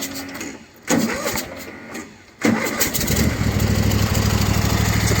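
A small engine is cold started after being choked, its fuel solenoid plunger removed; it catches after a couple of cranking attempts, then settles into a steady, loud, close idle chugging.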